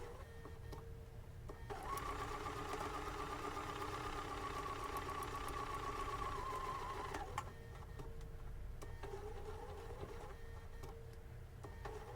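A sewing machine stitches a quilt with a steady, mechanical whirring hum, close and continuous for several seconds before it eases to a lower idle as the back stitch ends.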